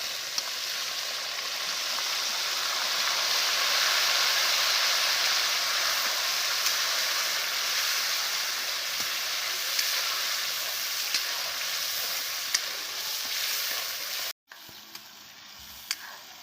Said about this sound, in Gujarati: હવે નાખશું ટમેટા.